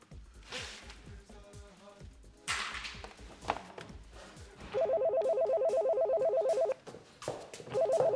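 A telephone rings repeatedly and goes unanswered in a Greek TV drama scene, a bright electronic ringtone pulsing in regular bursts after some earlier clattering sounds.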